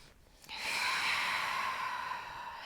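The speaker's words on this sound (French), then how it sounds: "On respire." A slow, steady exhale through the nose during a gentle evening yoga session, starting about half a second in and softly tapering off, faint and close with no talking.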